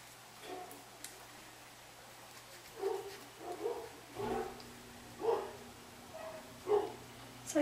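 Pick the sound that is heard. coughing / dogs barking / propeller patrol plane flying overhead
dogs barking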